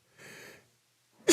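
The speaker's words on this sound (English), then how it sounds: "First on-air sneeze." One close, abrupt human sneeze: a short drawn-in breath, a pause of about half a second, then a sharp explosive burst.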